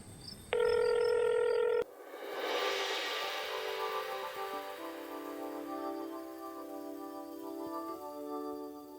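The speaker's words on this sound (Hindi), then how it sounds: "अरे चुप हो जा, रिंग हो रहा है।" A short electronic tone sounds briefly, then a phone's ringing melody plays on in a steady, moderately quiet ring with no talking.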